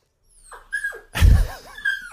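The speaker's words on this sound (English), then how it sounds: "Well, different dog sounds, Steve." A dog making assorted whimpers, whines and snorts, with a louder huffing sneeze-like burst in the middle, close up.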